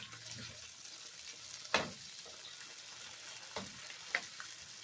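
Heart of palm sautéing with sardines in a pan, a soft steady sizzle broken by a few sharp clicks of a utensil stirring against the pan.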